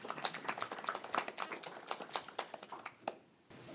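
Audience applause greets someone speaker as she takes the stage at a presentation of OECD study results, a dense run of claps that thins out and stops near the end.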